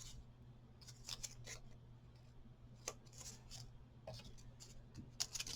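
Scissors trimming off excess material at a craft table, a series of quiet, close snips and crisp cuts in irregular bursts over a low steady background hum, with no talking.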